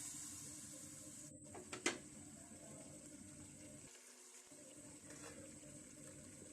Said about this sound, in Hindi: थोड़ा सा पानी लगा देती हूँ ताकि मज़ीद और गल जाए